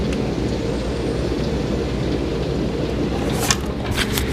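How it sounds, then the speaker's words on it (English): Heavy rain downpour: a dense, continuous roar of falling water with a low rumbling wash, steady and loud, with a few sharper splashes near the end and no talk. "it's downpouring"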